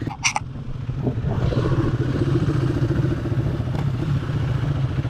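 A Honda CRF250L off-road motorcycle on a hard enduro outing idles and pulls away, its engine running loud and steady with a brief clatter at the start.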